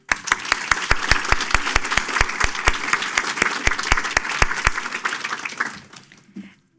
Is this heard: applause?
yes